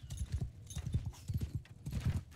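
Horse archers gallop across a Mount and Blade 2 Bannerlord battlefield, hooves drumming in quick, uneven clusters of close, loud thuds, with no voices.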